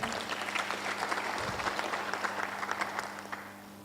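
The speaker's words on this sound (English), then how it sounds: "Give them a loud of applause again." Scattered audience clapping at a savings cooperative's annual general meeting, fairly faint and distant, with individual claps audible over a steady electrical hum before it tapers off.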